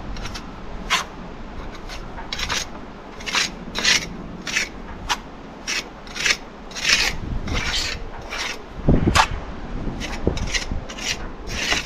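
Mortar pressed into brick joints with a pointing trowel while repointing brickwork, repeated gritty scraping strokes in an irregular rhythm, close and moderately loud.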